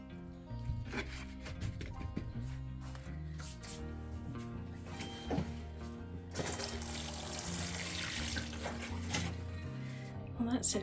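A potted pepper plant in a greenhouse is watered, with a soft trickling pour that swells into a steady splashing stream partway through. Someone talks over it throughout.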